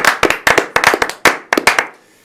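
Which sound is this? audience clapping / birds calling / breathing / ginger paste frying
audience clapping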